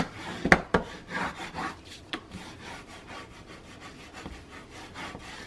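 A bone folder or similar tool burnishing paper for a handmade mini album cover, giving a dry scraping rub with a few sharp strokes near the start, then softer steady rubbing close up with no talk.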